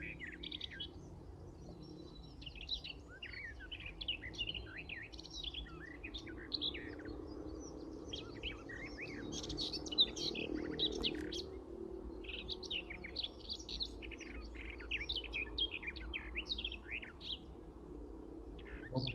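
A songbird at Bickershaw Country Park sings continuously, with bright, varied chirps and trills repeating in quick phrases over a low outdoor rumble, fairly near and steady.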